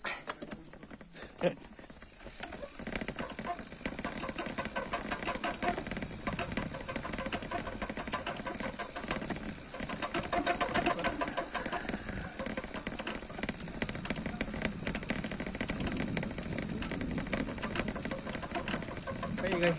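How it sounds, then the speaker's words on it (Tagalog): A noisy train rumbles past nearby with a steady hiss and rhythmic clatter lasting throughout, a high whine on top, and a voice speaking briefly over it. "Maingay trino."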